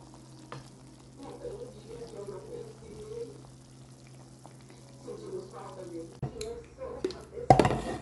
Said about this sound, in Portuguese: Colocar aqui nessa panela arroz e água e deixar ferver.